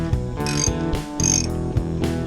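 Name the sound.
ratchet with 18mm socket removing castle nut on tie rod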